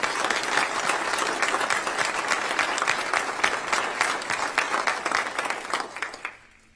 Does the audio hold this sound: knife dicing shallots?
no